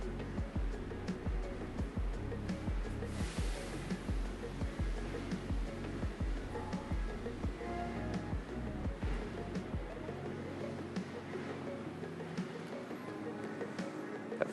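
Hot water is poured in a steady spiral over Ethiopian Bensa Shantawene natural coffee grounds in a filter, a continuous close rushing splash that thins out near the end.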